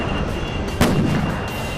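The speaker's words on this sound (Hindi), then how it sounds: "पटाखा चलाया था ना, ध्यान भटकाने के लिए" A firecracker goes off with a single sharp bang that rings out briefly against a loud, constant background roar.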